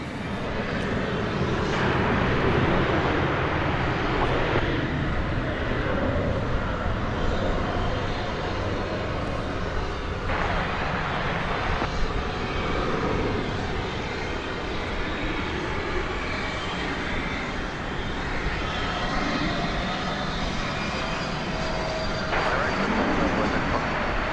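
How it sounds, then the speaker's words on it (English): An Airbus A220-300 approaches at Dallas Fort Worth airport, a broad steady jet roar that holds level for the whole stretch, with a voice talking over it at times. "It's an Airbus A220-300. And it's coming into view right now."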